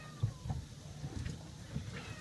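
A feral cat gives a few short meows at irregular intervals over a low, muffled background rumble, in floodwater.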